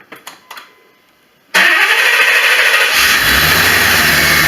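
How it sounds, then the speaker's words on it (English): A few faint clicks, then a 1989 Corvette's newly replaced starter cranks the engine, which catches and settles into a loud, steady idle close by. "That starter sounds a lot better than it did before."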